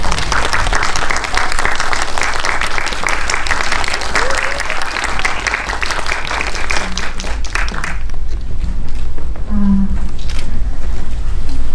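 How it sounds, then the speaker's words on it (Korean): A full house of film fans applauding to welcome director Kim Jong-kwan and actors Yeon Woo-jin and Lee Joo-young at a special audience talk, loud sustained clapping that fades around eight seconds, followed by quieter murmurs and scattered claps. "박수로 환영해 주세요."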